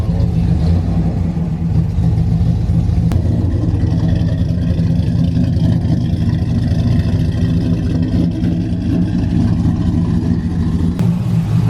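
A cammed Ram truck engine idles just after its first start, a loud, close, lumpy rumble with a steady choppy lope that continues unbroken for the whole stretch.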